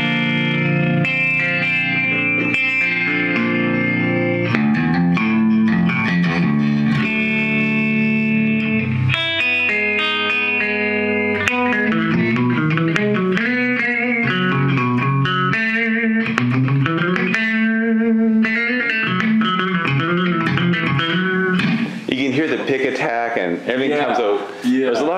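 A Gibson Moderne electric guitar with both pickups selected in the middle position plays a continuous run of chords and melodic notes, loud and close, with effects such as chorus and reverb colouring the tone throughout.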